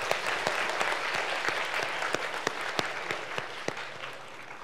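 Audience applause at a university debate competition fills the clip, a dense, steady wash of many hands clapping with sharper individual claps poking through, sustained for the whole stretch without voices.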